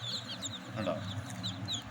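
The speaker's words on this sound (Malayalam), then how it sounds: "ഇത്തരത്തിലുള്ള കോഴികളാണ് നമ്മൾ കൊടുക്കുന്നത്" Quiet clucking and peeping from a group of native spotted hens and chicks, scattered soft calls over a low steady background.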